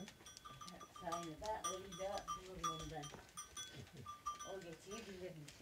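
A large herd of goats in a village bleat in a chorus of wavering, overlapping calls, some close and some farther off, with short bursts of human voices mixed in.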